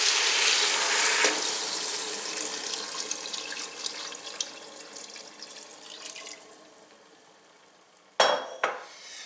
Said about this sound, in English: I'm also going to add some water at this time.